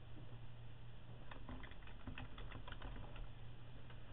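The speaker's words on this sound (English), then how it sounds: "I hate this stupid keyboard." Keys clatter on a computer keyboard in quick, uneven bursts of light clicks, faint and close against a low steady background hum, with no one talking.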